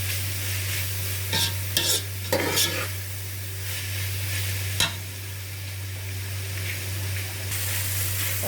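Vegetables sizzle and fry in a hot pan while a spoon stirs them in a few scraping bursts, all over a steady low hum, for a vegetable soup.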